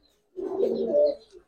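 A Giribaz pigeon gives a single soft, close coo lasting about a second, alone in otherwise quiet surroundings.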